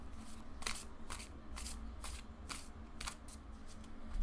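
Tarot cards riffle and shuffle in quick repeated bursts, a soft papery flutter recurring about every half second against a low background hum.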